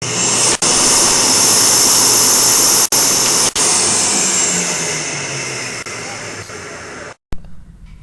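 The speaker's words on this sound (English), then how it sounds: "Out of this hose, air is coming out at about 10 meters per second." Loud, broad roar of air rushing out of a hose directed along a baffle, a steady hiss-like blast with a few brief dropouts, then cutting off abruptly near the end into quiet room tone.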